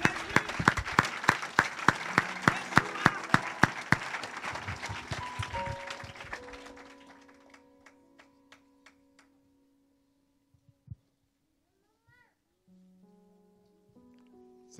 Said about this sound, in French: On acclame le Seigneur, s'il vous plaît.